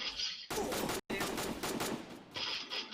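Rapid bursts of automatic gunfire crackle loudly in quick succession, with a brief gap, sounding like a video game firefight.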